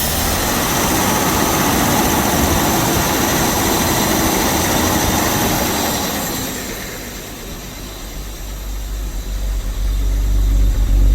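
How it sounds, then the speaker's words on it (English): A 1976 Jaguar XJ6 Series 2 six-cylinder engine idles close by in a steady, loud, broadband roar that dips slightly partway through before a deeper low rumble builds toward the end. "I can't believe it's actually just idling."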